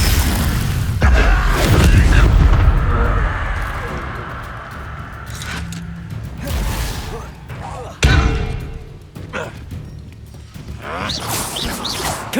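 Confringo fire spell explosions in the video game Hogwarts Legacy, several booming blasts and whooshes spread across the scene, loud and close, mixed with a voice casting spells and battle noise.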